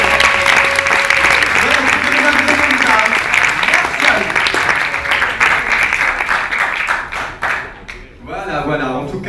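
An audience at a stage show in Montpellier applauds a couple, sustained dense clapping that stays loud for most of the time, then fades and breaks up as a voice begins speaking.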